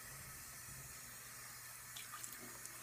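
Water runs steadily from a bathroom tap into a sink as makeup brushes are rinsed, a faint, even splashing flow with a few soft drips near the end.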